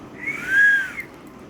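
A single whistle blast rises and falls over about half a second, clear and fairly loud against a quiet indoor background.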